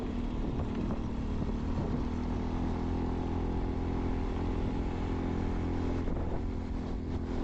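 A motorcycle engine strains up a steep, curving mountain pass in Aurora Province, droning steadily and loudly up close with wind rush and the labored hum of climbing.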